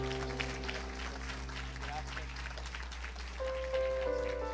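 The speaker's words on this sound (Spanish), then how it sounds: "Denle un fuerte aplauso al Señor." A church congregation claps steadily throughout, a dense patter of applause over a low electrical hum, with voices and instrumental tones rising near the end.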